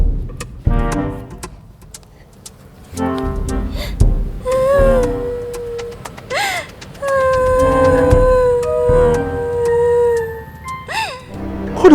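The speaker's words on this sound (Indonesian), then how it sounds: "Kok ada suara tangisan?" Eerie wailing cries drift across a quiet island, rising and bending in pitch. Long moaning tones come in several separate bursts with pauses between them.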